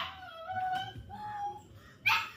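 A puppy at a family gathering in Jamaica gives a few close, drawn-out whimpers and whines, followed by a brief sharp yip at the end.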